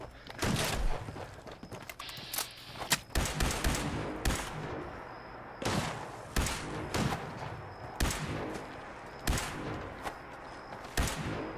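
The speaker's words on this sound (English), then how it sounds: "I'm just going to have to finish this with a gun" Gunfire from a gun in Fallout 76 rings out as a dozen or so sharp, loud shots at irregular intervals over a continuous bed of game noise.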